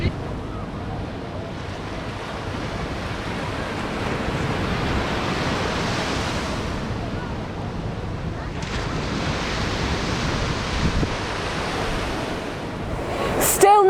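Strong wind and surf along the Benidorm seafront, a continuous roar of waves and gusts buffeting the microphone, swelling and easing over several seconds with a sharp knock near the end.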